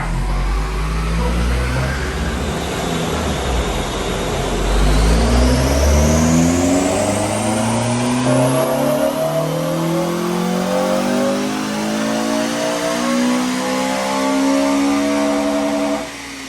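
A modified Honda car engine revving hard on a dyno, climbing steadily through the gears with a loud, rising, continuous roar that holds near the top before cutting off at the end.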